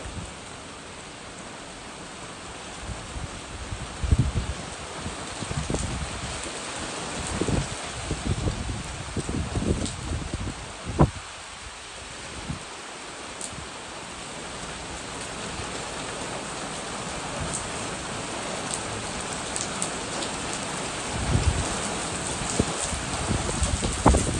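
Heavy rain pours down in strong wind with a constant hiss, broken by scattered louder splashes and gusts; no voices, only the continuous wash of falling water.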